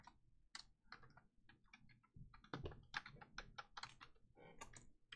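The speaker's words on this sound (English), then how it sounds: "let me just type this real quick because I can't talk while I'm typing" Fast, uneven key clicks as someone types on a computer keyboard during a livestream, close up and quiet, in bursts with brief pauses and no talk.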